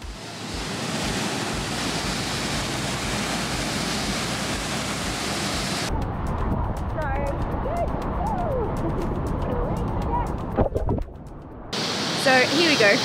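Steady, loud roar of the La Fortuna waterfall pouring into its plunge pool in Costa Rica fills the first half, then drops to a lower rushing wash with faint voices over it.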